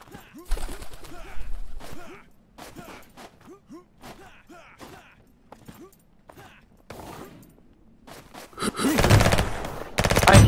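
Shotgun blasts and rapid gunfire in the online shooter Venge.io, loud bursts scattered through the clip and building to a dense barrage near the end, with a voice talking between shots.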